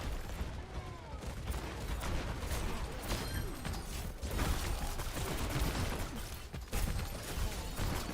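Cassidy firing at Bastion in the Overwatch game, rapid gunfire and mechanical clanks layered in a dense, busy mix of battle noise that continues steadily throughout.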